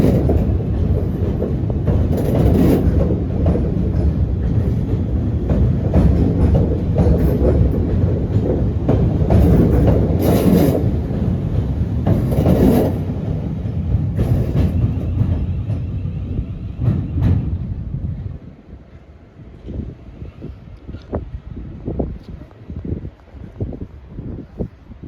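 Class 450 unit 450064 forms the rear of a train passing through Portsmouth & Southsea station, a loud sustained rumble with rhythmic clickety-clack of wheels that fades away near the end, leaving quieter platform sounds.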